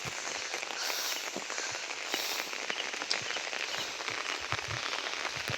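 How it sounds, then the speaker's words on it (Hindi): Steady monsoon rain in Himachal falls and patters on surfaces nearby, a continuous wash of drops with occasional louder taps and splashes. "अभी तो पता नहीं 2 दिन रहेगी बारिश मेरे ख्याल में"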